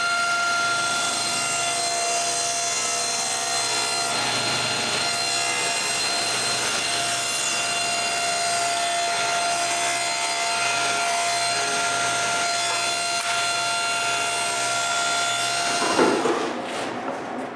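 A power saw cutting through a piece of plywood while shaping a cabinet part in a woodshop, a loud steady whine with a constant tonal hum that runs unbroken for about sixteen seconds, then briefly roughens and winds down, with no talking.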